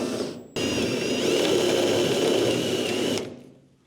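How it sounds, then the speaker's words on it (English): A power drill bites through spot welds on an S14 car body, one steady high whining burst of about three seconds that starts abruptly and winds down, close and loud, with no talk. "You're just drilling the spot welds out"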